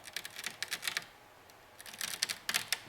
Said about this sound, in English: the sound of ice in there